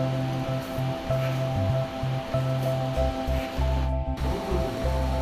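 Sweetened masala tea boils hard in a pan, giving a dense, steady bubbling roar up close with a faint electrical hum underneath and one short dropout.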